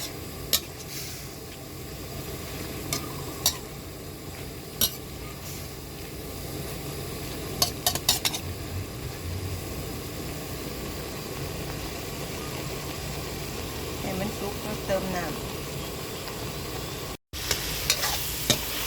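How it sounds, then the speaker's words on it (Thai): Rice mixture being stir-fried in a pan until dry for a Thai omelette-style dish, a continuous soft sizzle with occasional scraping clicks of the spatula, no talk over it. "เอามาขั่วให้น้ำข้าวมันแห้งก่อนนะพี่น้อง"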